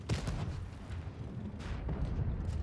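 Heavy booming tank cannon shots in World of Tanks Blitz from a Semovente CC-64 in a ranked battle, a sharp blast near the start and another around the middle, over a steady rumbling battle background.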